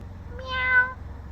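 A single clear cat meow, drawn out and rising then falling, close by over a low steady hum.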